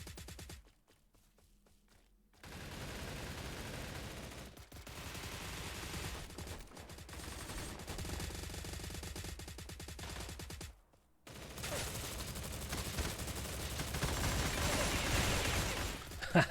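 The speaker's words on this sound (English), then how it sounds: "I shot 3 different people and like did a bunch of damage to all of them" Bursts of SIG SG 550 rifle gunfire in a video game battle, loud and dense fusillades with brief pauses between volleys, running almost continuously.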